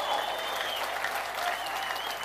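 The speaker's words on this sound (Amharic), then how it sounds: "ጭብጨባ" A church congregation applauds steadily and loudly, with dense, continuous clapping filling the whole moment and a faint sustained voice or tone running beneath it.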